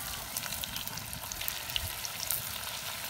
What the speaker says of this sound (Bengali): আর এত সুন্দর পিঠা ভাজার শব্দ